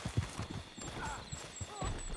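In the online western game Red Dead Online, horse hooves clip-clop in a quick rhythmic gait with a brief whinny, moderately close, under faint voices.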